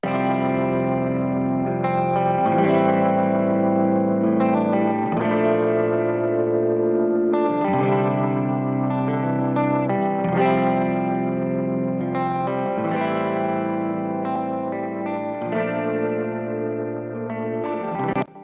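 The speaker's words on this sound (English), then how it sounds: "These guitars are the bridge only, and they are Rock Rack, so the Tele Funky, and then ENGL clean presets" Bridge-pickup electric guitars run through Rock Rack Tele Funky and ENGL clean presets play a sustained, chorused chord progression. The chords change about every two and a half seconds with bright, shimmering tone, ending abruptly.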